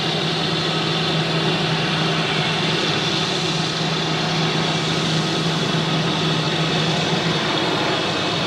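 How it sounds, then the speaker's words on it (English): Aer Lingus Airbus A320 departing Zurich Airport for Dublin, a loud, steady broadband jet engine roar with a low rumbling hum, continuous throughout with no voices. "Then we have Aer Lingus with an A320 off to Dublin."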